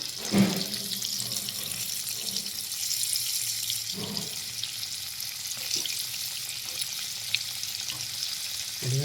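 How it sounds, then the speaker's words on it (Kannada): Stuffed ridge gourds fry in hot oil with mustard seeds and asafoetida, giving a continuous close sizzle across the whole stretch. A couple of duller thumps and clatters come through as pieces are set in the pan, and nobody speaks. "ಎಣ್ಣೆ ನಾನು ಮೊದಲೇ ಕಾಯಕ್ಕಿಟ್ಟಿದ್ದೀನಿ ಅದಕ್ಕೆ ಸಾಸಿವೆ ಮತ್ತು ಇಂಗು ಹಾಕಿದ್ದೀನಿ ಇದನ್ನು ನಿಧಾನವಾಗಿ ಒಂದೊಂದನ್ನೇ ಅದರೊಳಗಡೆ ಹಾಕ್ತಾ ಬನ್ನಿ"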